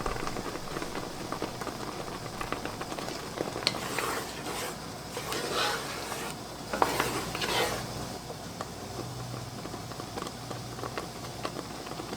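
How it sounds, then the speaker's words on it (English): Peach preserves bubbling in a pot while being stirred, a steady low simmer with soft pops and spoon scrapes running throughout, fairly quiet and close. "It's starting to bubble."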